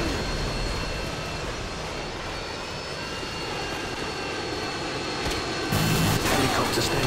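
A helicopter hovers in the video game Call of Duty: Modern Warfare 2, a steady loud droning engine roar that holds throughout, with a brief burst of extra noise near the end.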